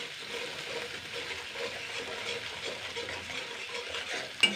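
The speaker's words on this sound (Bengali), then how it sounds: "আলু আর এই যে বাটা মশলাটা আমি ভালো করে একটু একটু কষিয়ে নেবো এটা কিন্তু লো ফ্লেমে করতে হবে" Potatoes and ground spice paste being stirred and sautéed in a pan over a low flame for a Bengali fish curry, a soft steady sizzle with scraping stir sounds and a brief utensil clink at the end, no talking.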